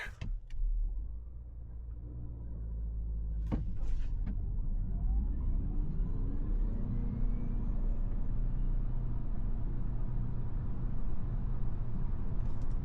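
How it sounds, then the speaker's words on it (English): A 2026 KGM Torres Hybrid (204 HP) pulling away hard in sport mode at night after a brake-held launch: a low engine and drivetrain rumble builds and then holds steady inside the cabin, with a few brief clicks early on and no talking. "hold the brake, floor the accelerator, and release the brake"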